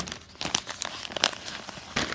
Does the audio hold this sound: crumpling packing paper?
yes